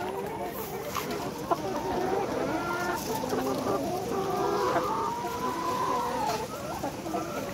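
Laying hens of the Nourish layer breed cluck and chatter continuously in a poultry farm shed, a dense flock murmur with overlapping calls and occasional louder squawks, steady throughout with no talking.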